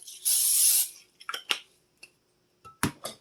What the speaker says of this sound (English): I have my brownie pan out, and I'm going to spray it